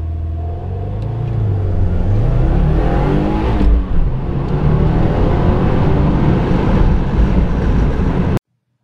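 A 2015 Subaru WRX with a Bren tune launches from a stop and accelerates hard toward 60 mph, the engine climbing through loud revving pulls with brief dips at gear changes before cutting off abruptly.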